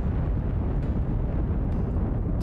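Solid rocket boosters roar continuously in Kerbal Space Program 2, a dense, loud, rumbling burn with no break.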